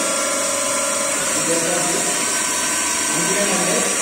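A DC shunt motor drives a series generator on a lab test bench, climbing toward its rated 1500 RPM; a steady, loud electrical whine and mechanical roar holds throughout, with tones shifting upward as the machine gains speed.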